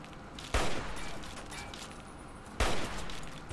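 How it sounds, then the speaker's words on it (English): Super Mutants fire assault rifles in Fallout 3, two loud automatic bursts of gunfire about two seconds apart, each followed by sustained rattling fire under a noisy battle ambience. "Where the fuck do these Supermutants find all these goddamn assault rifles?"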